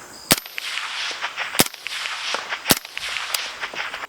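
Suppressed 5.56 rifle shots close to the listener, with an Exigent Defense Vanish suppressor on a 12.5-inch barrel: four crisp cracks at uneven intervals, each a short bright snap over a faint ambient hiss.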